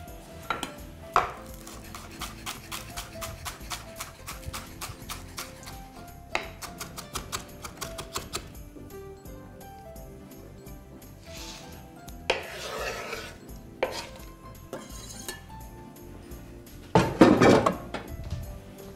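Fresh dill being finely chopped with a knife on a board, a quick run of light rhythmic taps in bursts with pauses, fairly faint and close.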